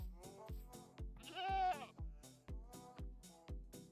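A Minecraft goat gives one clear, wavering bleat in the middle, set against a steady run of regular thumping beats from the game.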